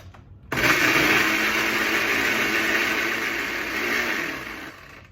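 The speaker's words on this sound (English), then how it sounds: "into our blender and go ahead and blend that up really nice" A blender blending blueberries and water runs loudly and steadily, starting abruptly after a brief quiet moment and whirring continuously with a slight surge near the end.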